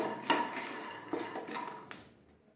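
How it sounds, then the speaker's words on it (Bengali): Roasted peanuts are tipped from a pan into a bowl, giving a few sharp clinks and a rattling scrape, then fading away quietly. "বাদামটা আমি এই বোলের মধ্যে ঢেলে নিচ্ছি।"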